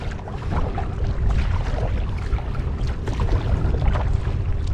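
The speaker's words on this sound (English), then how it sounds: "the winds really are kicking up some chop out here" Wind and choppy water slap against a canoe on the Mississippi River, a steady, close, blustery wash of splashing and gusting air that runs the whole time without talk.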